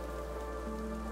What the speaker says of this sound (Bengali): এখনো বৃষ্টির টুপটা পড়েই চলেছে।